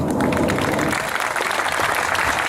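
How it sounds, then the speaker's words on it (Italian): An audience at a political gathering in Este breaks into applause for a speaker, a loud burst of many hands with a heavy, rumbling low end, dense throughout the short span. "Un applauso."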